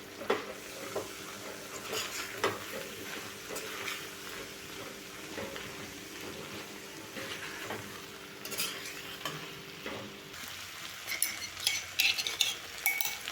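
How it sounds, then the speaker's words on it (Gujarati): Repeated scraping and stirring of spices and chutney into a sizzling pan of valor (flat bean) curry, with occasional spoon clinks against metal, continuous and close. "મસાલા અને ચટણીને શાકમાં સારી રીતે મિક્સ કરી લઈશું"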